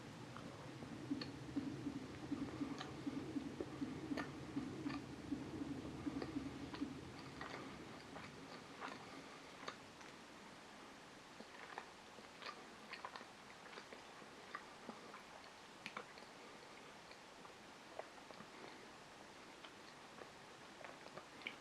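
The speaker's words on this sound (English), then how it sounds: "let's taste the smaller piece" A piece of Balocco panettone is chewed up close, with soft, moist, rhythmic chewing clicks that are steadier at first and then thin out into sporadic mouth sounds, without speech.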